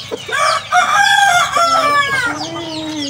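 Chickens on a farm crow loudly and close by, long drawn calls overlapping with steady clucking from the flock.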